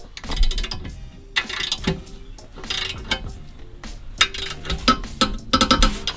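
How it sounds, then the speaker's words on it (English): A torque wrench tightens the front skid plate bolts on a 2019 Subaru Crosstrek to 50 foot-pounds, making close, busy ratcheting clicks and metallic mechanism noise in uneven bursts. "these two front are getting torqued to 50 foot-pounds"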